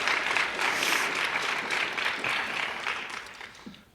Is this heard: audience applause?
yes